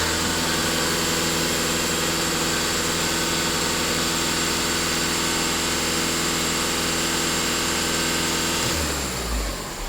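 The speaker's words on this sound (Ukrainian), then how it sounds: "Автомобіль прогрівається." A Skoda A7 car engine idles steadily while warming up, a loud constant hum with strong low harmonics that shifts and drops near the end.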